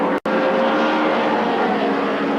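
Two-litre class touring cars racing past at Silverstone in the 1990 British Touring Car Championship, a loud continuous roar of engines without a break apart from a brief cut near the start, with no talk.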